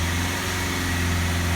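Diesel engine of a Land Rover Freelander TD4 with a BMW M47 unit, smoking fault, held steady at around 2,500 rpm, a constant dense drone close by with no voices.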